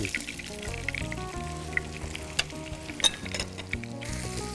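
Food fries in a pan until reddened for a gravy in a TV cooking show, a steady sizzling hiss running beneath prominent background music.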